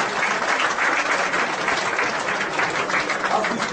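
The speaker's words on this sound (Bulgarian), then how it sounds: "Аплодисменти за Никола Джугански." Audience applause at a sports awards ceremony, dense and loud clapping sustained evenly throughout without voices.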